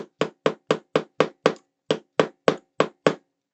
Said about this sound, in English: I'm gently knocking it with my hammer here